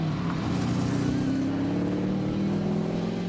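A deep MGB V8 classic sports car engine rumbles and rises in pitch as it revs, loud and close with a throaty burble.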